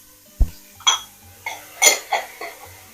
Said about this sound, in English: So now we're just going to go in with our onions, carrots, and celery.